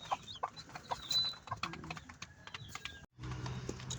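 Newly hatched chicks and chickens at feeding time, with scattered high peeps and clucks and light pecking taps, close and fairly quiet, followed by a brief pause and then a low rustling.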